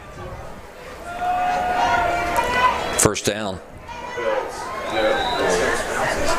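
Crowd noise at a nighttime varsity high school football playoff game, a steady murmur of chatter and children's voices in the stands, with an announcer speaking over it and a brief whistle-like tone partway through.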